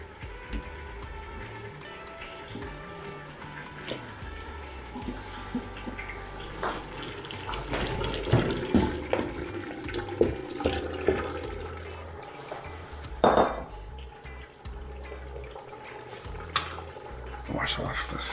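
Water running from a kitchen tap while washing something during Jamaican curry chicken preparation, a steady close splashing stream with bursts of louder splashes, and a person speaking at times.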